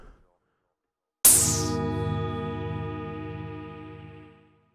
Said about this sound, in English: Nice metallic sound,